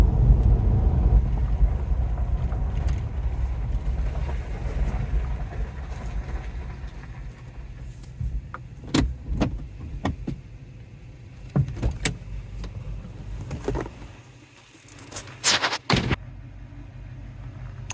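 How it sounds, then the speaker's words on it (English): A Toyota Tundra with a 2UZ-FE V8 runs steadily, a low rumbling idle heard close, with sharp clunks and knocks from the truck breaking through near the end. "engine runs great"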